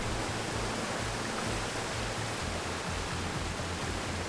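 A waterfall in the Unreal Engine game THUNDER pours as a dense, even roar of rushing water, with a low rhythmic pulsing beneath the constant hiss.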